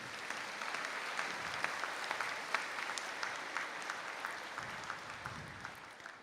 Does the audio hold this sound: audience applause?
yes